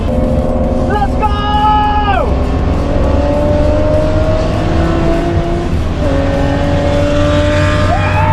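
A Datsun Cedric with an L28 engine races around a track. Loud, continuous engine drone with rising and falling revs through gear changes, a brief squeal or whine early on, close and unbroken throughout.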